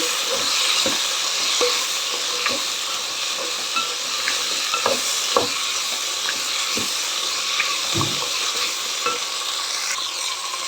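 Thin carrot rounds sizzle steadily in a pan while being stirred, with a continuous close frying hiss and occasional soft scraping taps throughout.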